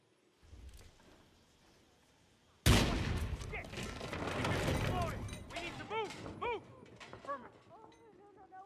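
A sudden loud blast in the Hitman video game bursts in after a quieter stretch and is followed by a dense rumble of clattering debris and gunfire-like pops, with a voice talking over it.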